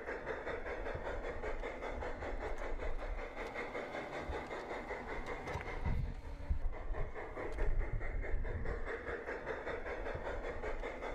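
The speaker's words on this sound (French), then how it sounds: "Sur le circuit principal, cette locomotive Malais quitte l'une des 3 gares du réseau." Garden railway model locomotive pulling out of a station, a soft rolling rumble with light rhythmic clicking that swells slightly midway, faint and outdoors, no talking.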